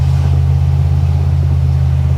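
A Ford 302 small-block V8 rumbles steadily with a strong, even low-end drone, sounding close and loud throughout with no clear rise in pitch.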